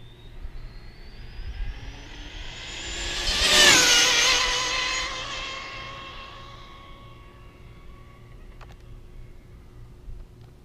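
A Mugen MGT7eco RC monster truck on a 6S pack rises in a high, whining electric-motor rush that peaks loudly, then fades as it moves off and runs on faintly in the distance.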